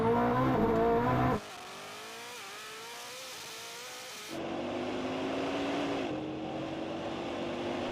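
Bugatti and Koenigsegg hypercars race a half-mile, with a loud engine roar that drops away abruptly, then climbing rising-pitched engine tones and a renewed, steady roar, heard up close without talk.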